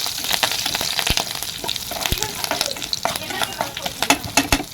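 Curry leaves dropped into hot oil for a tempering of seeds and dried red chillies, crackling and sizzling steadily, with sharp pops and a spoon stirring through the pan, close and fairly loud, no talk.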